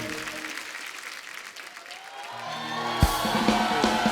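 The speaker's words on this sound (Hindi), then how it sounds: "जोरदार ताली।" A studio audience at a comedy talk show bursts into loud, sustained applause that swells and grows denser toward the end, with some cheering mixed in.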